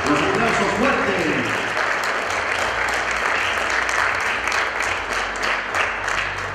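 Loud, sustained applause from the guests at a quinceañera celebration greets the candle bearers. It opens with a voice over the first moments and carries on as a dense, even roar of clapping.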